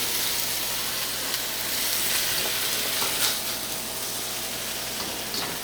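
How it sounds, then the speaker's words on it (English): Garlic, parsley and diced tomatoes frying in a pan for lomo saltado, a steady, moderate hiss of sizzling with a few soft clicks, close and uninterrupted by speech. "Once I put the garlic in, next I'm going to put in the parsley and the diced tomatoes."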